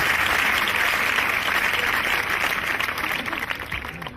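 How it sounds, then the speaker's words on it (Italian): Dense applause from a comedy show audience, loud and steady at first, then thinning slightly toward the end, with no speech over it. "Facciamo un applauso alle nostre mamme per queste feste che ci hanno fatto."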